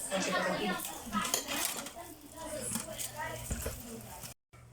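Dishes, pots and cutlery being washed in a household kitchen, with clattering and clinks running steadily throughout under frequent nearby talk and background voices, ending in a brief silence.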